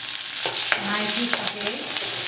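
Ginger and garlic sautéing with chilli and curry leaves in a pan for dal palak, a steady close sizzle broken by several sharp stirring scrapes, with no voices.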